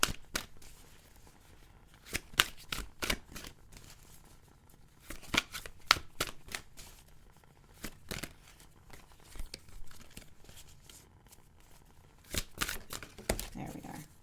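Tarot cards shuffled by hand for a one-card draw, giving quiet papery riffles and slaps in irregular bursts, close and alone with no talking.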